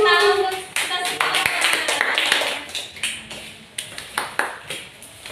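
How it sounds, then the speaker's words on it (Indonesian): A classroom group claps hands in applause, a dense burst of many hands that thins toward the end, with children's voices and chatter mixed in. "Tepuk tangan untuk kita semua"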